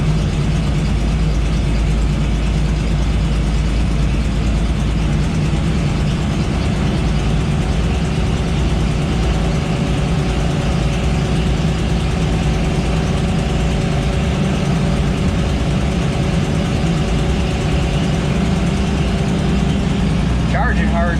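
An old Chrysler engine idles cold on choke, a loud, steady low rumble that stays even and close throughout, with talk occasionally heard over it.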